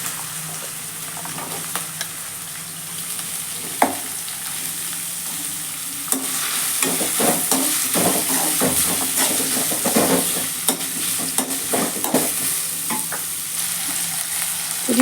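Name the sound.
onions frying and being stirred for beetroot rice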